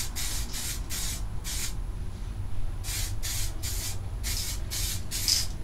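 DuraBlue spray-on bluing hisses from an aerosol can in short bursts, four quick sprays, a pause, then seven more in a fairly steady rhythm, close and moderately loud with no talk.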